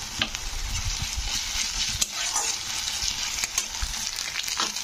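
Ginger and garlic fry in hot oil for a fish curry, a steady close sizzle with scraping stirs and small spatters running throughout, no voices.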